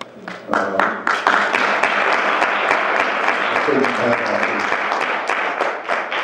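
Applause from an audience at a forum on Black male unemployment begins with a few separate, sharp claps and quickly swells into a dense, sustained round of clapping, with some voices faintly mixed in.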